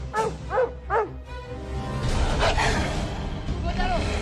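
A dog gives several sharp, whiny yelps and barks up close, then frantic whimpering continues beneath agitated, overlapping human voices.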